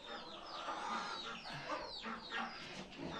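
Backyard chickens clucking in a dense, overlapping chorus of short calls, fairly near but quiet, with no talking over them.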